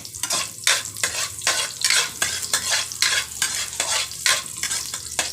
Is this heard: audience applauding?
no